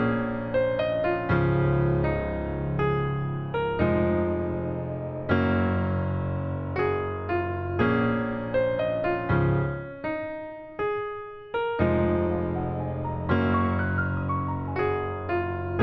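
A melodic piano melody for a type beat, built in FL Studio, plays alone with layered sustained chords and a bass line, a brief sparse pause near the middle before the full progression resumes.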